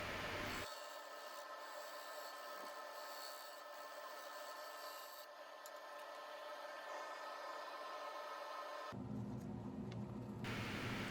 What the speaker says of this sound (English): I'm using a negative rake carbide cutter on Easy Wood Tools #1 hollower here